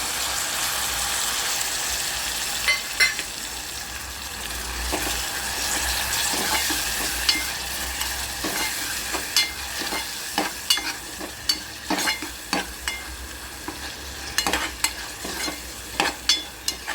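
Onion-garlic masala roasts in a pan for a moong dal amti. A low sizzle runs underneath while a spatula scrapes and taps at a fairly regular pace, and the strokes become busier toward the end.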